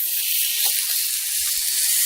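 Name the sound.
lentil burger cracking and sizzling in a pan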